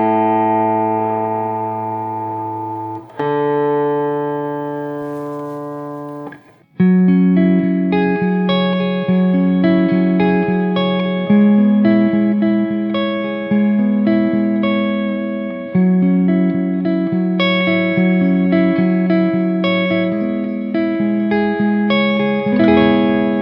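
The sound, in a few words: Boss Tera Echo TE-2 pedal effect, subtle setting on guitar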